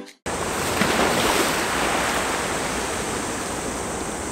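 Ocean surf washing steadily along the shore at Kada in Wakayama, a continuous broadband roar of waves with a little wind, loud and close, starting abruptly after a brief quiet moment.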